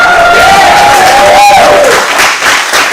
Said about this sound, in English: just a quick round of applause